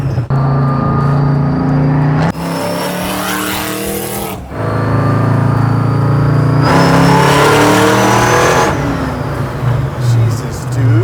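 A supercharged 1971 Chevy Nova roars through hard acceleration with loud rising revs and gear changes, heard close from inside the car while people talk over it.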